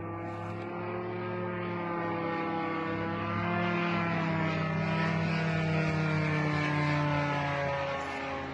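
A Russian drone passes directly overhead, a loud, steady propeller-engine drone with a rich harmonic whine that swells slightly as it nears, continuous for several seconds with no speech.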